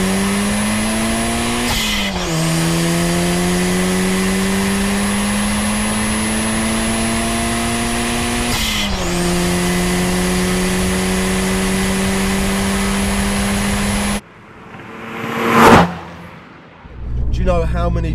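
A Toyota Celica GT4 climbs steadily through the revs under load while driving, with two gear changes briefly dropping the engine note, then a sharp rev flare and passing swoosh near the end.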